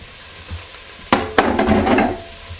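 Broth pours with a sudden splash into a pot of chicken soup with onions, celery, barley and a bay leaf, a short sizzling gush following a sharp clank, then settling quiet.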